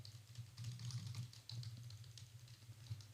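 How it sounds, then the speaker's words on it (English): Rapid, quiet keystrokes clatter on a computer keyboard in a steady run, close up over a low constant hum. "sorry about my keyboard"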